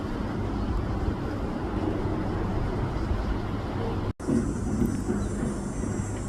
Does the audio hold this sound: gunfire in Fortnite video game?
no